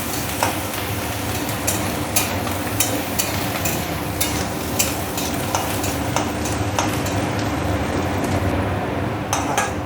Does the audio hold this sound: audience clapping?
no